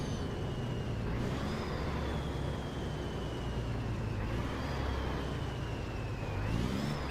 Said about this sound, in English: Okay, jam on the brakes.